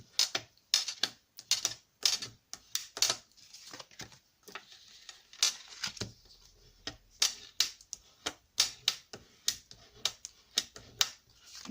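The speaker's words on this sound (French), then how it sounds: "je vais bien marquer mes plis." Paper folds creased firmly for an Easter bunny craft, a series of sharp close taps and presses in an irregular rhythm, with no talking over them.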